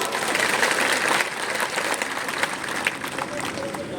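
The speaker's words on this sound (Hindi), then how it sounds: "सबके लिए जोरदार ताली बजा दो।" Crowd applause at a political rally in Churu, Rajasthan, a broad, steady wash of clapping from many hands that stays loud throughout, with some crowd noise mixed in.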